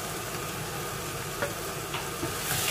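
Pre-fried potato and eggplant pieces tipped into a hot spiced pan for aloo baingan sabzi, giving a steady close sizzle with faint clicks of a spoon.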